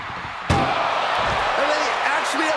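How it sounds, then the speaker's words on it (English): A single sharp slam of an ambulance door being forced shut during a wrestling ambulance match, followed by crowd roar and a commentator talking over the noise. "Trying to force the first door closed."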